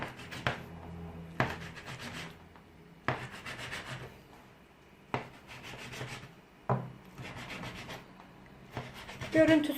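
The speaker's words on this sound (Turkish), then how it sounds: "Görüntüsü de hoş olsun diye arkadaşlar bu şekilde bir aparatla kesiyorum." A patterned cutter tool pressing down through rolled nokul dough on a board, about six separate scraping, rubbing cuts at a steady rhythm, close and fairly quiet, with no talking.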